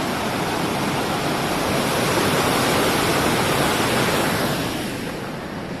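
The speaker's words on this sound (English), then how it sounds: "It'd be easy to miss it, but for the noise of the water." A loud, continuous rush of a flowing stream on the Kerry Way in Ireland fills the scene, steady and close, with no voices.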